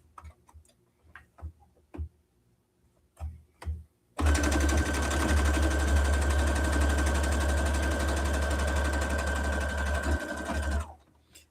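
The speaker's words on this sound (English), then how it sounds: "put both sides together, and go ahead and sew down" A sewing machine stitches a seam on a reversible mini tote bag, running as a loud, steady whir for about seven seconds after a few quiet handling bumps.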